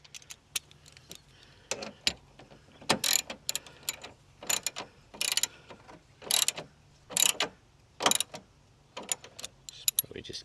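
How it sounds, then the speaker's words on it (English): A 10mm socket ratchet tightens a bolt on a support brace of a 2001 GMC Yukon, giving quiet bursts of clicking strokes repeated at intervals, close by, with faint background hum. "Tighten both ends with our 10mm socket."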